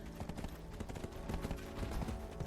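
Horse hooves clip-clopping in the online role-playing game Black Desert Online, a quick steady run of muffled thuds set in a dense game soundscape, no speech.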